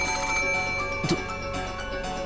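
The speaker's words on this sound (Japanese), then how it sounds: "the ring of the phone, which had once sounded like a scream for help, now started to sound like a ghastly lure from some unknown person" A telephone rings with a steady, bright electronic tone, heard alone and fairly clear for a couple of seconds, as a sound effect in a voiced visual novel.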